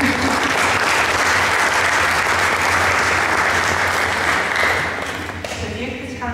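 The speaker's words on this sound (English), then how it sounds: "Round of applause." Audience applause at a medical imaging lecture, dense steady clapping from a sizeable crowd that fades out near the end, with a voice briefly heard as it dies down.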